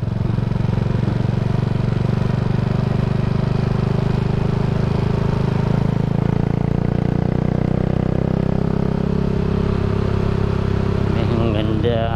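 A Raider J115 Fi motorcycle fitted with a 57mm power pipe exhaust runs steadily, its engine drone constant and fairly loud with a slight pitch rise, while someone talks over it.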